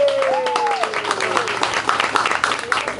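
A crowd at a youth event's closing ceremony applauds with dense, continuous clapping while a voice speaks in Portuguese over it and a whistle-like tone glides near the start.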